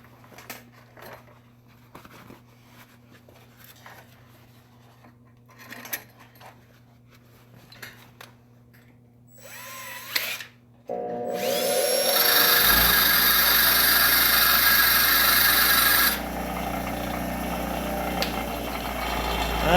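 A bench grinder spins up and runs loud and steady while sharpening a tungsten electrode, after quieter bench clatter and handling sounds; the whine starts abruptly midway and stays close and constant to the end.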